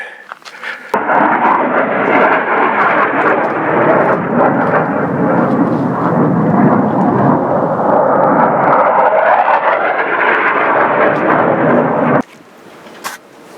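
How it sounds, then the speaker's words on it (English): A loud, broad roar of an airplane passing close by as it comes out of a desert valley, building in and holding steady before cutting off abruptly near the end. "the plane's coming out of the valley here"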